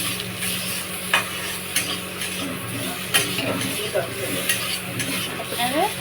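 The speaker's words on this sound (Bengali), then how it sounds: "এবার নেড়ে নেবেন।" Turmeric and salt being stirred into a cooking pan, giving a soft steady sizzle with scraping strokes and a few sharp utensil clicks against the metal, fairly quiet and close.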